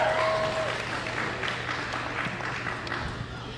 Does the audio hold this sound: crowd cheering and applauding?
yes